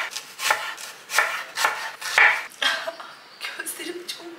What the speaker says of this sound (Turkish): Aynı şekilde doğrayacağız.